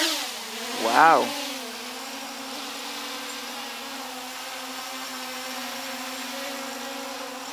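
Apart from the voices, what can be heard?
Walkera Aibao drone motors throttling up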